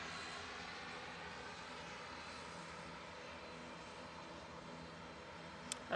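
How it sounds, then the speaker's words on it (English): A Virgin Atlantic Airbus A380 airliner departing Manchester Airport gives off a steady, low engine drone that holds evenly throughout, fairly distant and faint, with a brief click near the end and no talking. "Virgin Atlantic A380s coming out."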